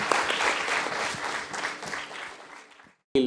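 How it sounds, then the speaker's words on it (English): An audience at a mentors' session applauds warmly, a dense crackle of many clapping hands that gradually thins and fades to silence before a sudden new sound cuts in at the end. "A huge round of applause to Vijeta Shastri, ladies and gentlemen."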